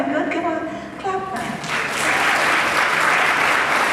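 An audience at a college youth program event breaks into loud, sustained applause after a stretch of speech, the clapping swelling and holding steady to the end.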